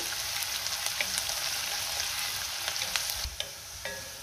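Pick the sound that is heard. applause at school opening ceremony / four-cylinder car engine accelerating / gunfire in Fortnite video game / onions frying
onions frying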